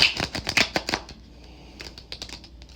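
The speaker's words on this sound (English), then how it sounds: "This deck is so old, it's getting hard to shuffle." An old, worn deck of tarot cards is shuffled close up in a quick run of crisp riffling flicks, followed by a brief pause and a few softer taps as the cards settle.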